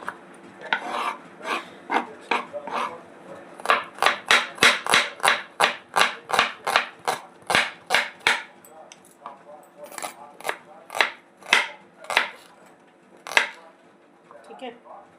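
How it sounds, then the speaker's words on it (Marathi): Green chili and onion being finely chopped for a salad, a rapid run of sharp knife strikes on a board, close and steady, with a few pauses between bursts. "चॉपिंग करतो आहे सॅलडमध्ये घालण्यासाठी. मिरची, कांदा छान बारीक बारीक कापून घ्यायचा"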